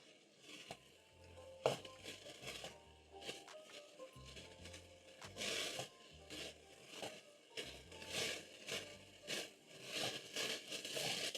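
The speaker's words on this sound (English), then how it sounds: "Stir in the salt as the rice is toasting." Rice toasting in a pot as salt is stirred in, giving a soft, continuous scraping and patter of grains moving against the metal, quiet and close, with small crackles throughout.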